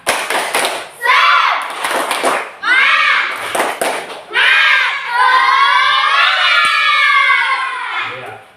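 A group of children in a classroom chants loudly in rhythm, a clapping chant, broken by bursts of sharp unison clapping, close and energetic.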